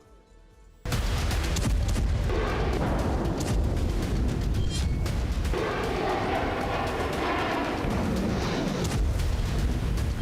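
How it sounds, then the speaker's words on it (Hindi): Artillery firing at the Pokhran field firing range, with a sudden loud onset and then sustained heavy rumbling blasts and roar throughout. "आज पीएम मोदी एशिया की सबसे बड़ी फील्ड फायरिंग रेंज पोखरण में मौजूद थे"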